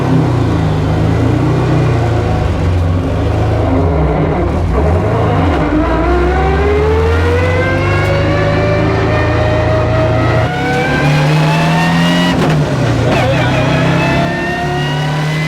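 An 800hp four-wheel-drive Subaru Legacy hillclimb car accelerates hard, its loud engine sweeping up through the revs with gear changes, close and continuous, with some voice mixed in.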